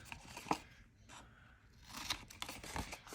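Paper corners being trimmed for a handmade vintage Christmas mini album: a few quiet scissor snips and paper rustles, close and faint, spaced irregularly.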